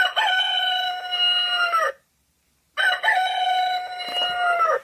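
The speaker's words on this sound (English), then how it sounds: "this is what the rooster crow sounds like" A talking clock's rooster crow alarm sounds twice, each a loud, clean electronic cock-a-doodle-doo lasting about two seconds, separated by a brief silence.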